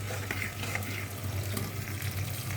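A fish curry with eggplant frying in a pan gives a continuous soft sizzle and bubbling, with light scraping clicks near the end. The sound is quiet and close, with no voices.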